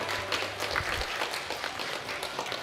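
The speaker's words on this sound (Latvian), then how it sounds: "Aplausi." Audience applause at a bouldering competition semifinal, a steady wash of clapping from a crowd across the whole stretch, moderately loud and fairly distant, with no voices standing out.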